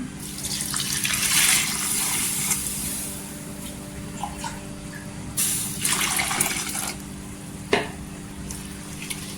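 Water swishing and splashing in a wide, shallow basin as dried fish is rubbed and rinsed by hand to remove sand, with a faint steady hum behind.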